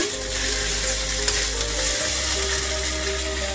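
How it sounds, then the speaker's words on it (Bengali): Spice masala fries in a pan in a village kitchen, giving a dense steady sizzle with faint stirring and a low continuous hum underneath, close and fairly loud, with no talking. "হয়ে গেছে বন্ধুরা মশলা কষানো"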